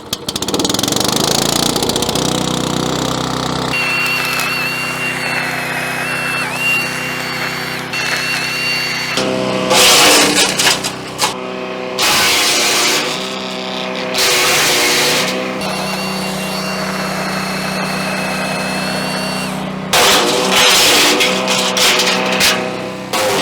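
A budget wood chipper runs with a loud, steady engine drone, broken by several bursts of harsher grinding and crunching as material feeds through.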